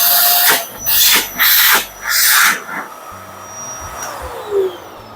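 A Hitachi vacuum cleaner running and sucking, loud and close, surging in several strong pulses before dropping to a lower steady whine and then fading.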